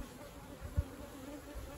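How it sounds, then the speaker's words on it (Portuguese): Bees buzz around a newly emerged queen in a hive set in a drain cover, a soft, close, steady hum with one low thump partway through. "Olha lá as abelhas."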